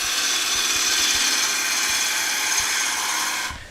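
A wood lathe spins a bowl blank with thin walls while a gouge cuts it, making a steady, close hiss of shaving that runs without a break, then fades away as the cut stops.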